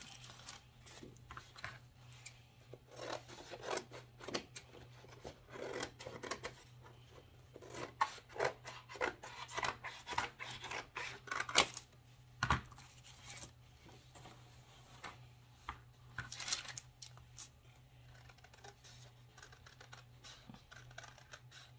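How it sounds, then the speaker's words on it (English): Scissors snipping through paper to cut out a round circle for a handmade decorative bucket, a steady run of close, crisp snips and rustles that continues with short pauses. "And then I'm going to cut that out."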